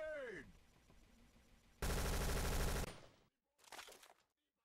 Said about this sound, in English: Are you blight mortaring now?